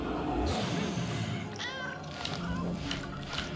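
A cat meows in the game Gori: Cuddly Carnage, with a few short high calls mid-clip over game sounds and a voice talking.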